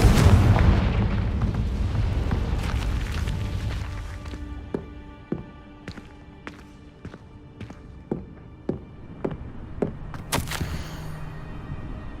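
A Confringo blasting spell in Hogwarts Legacy goes off in a loud, booming explosion whose rumble fades over several seconds. A run of light, evenly spaced footsteps or taps follows it.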